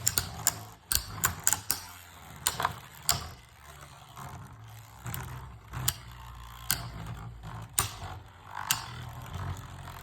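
A Beyblade Burst Guard Draciel top spins and clatters in a plastic stadium, giving a run of sharp rattling clicks and knocks at irregular intervals over a faint whirring hum, close up and without talk.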